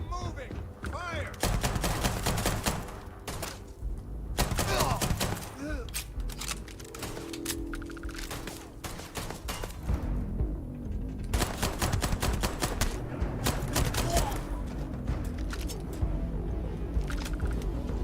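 Rapid automatic gunfire in the video game Starfield, long dense bursts of loud shots broken by short pauses, with a voice talking over parts of the shooting.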